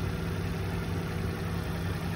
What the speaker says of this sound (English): Very clean, force quiet engine on the Mitsubishi.